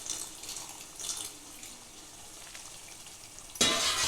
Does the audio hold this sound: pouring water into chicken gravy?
yes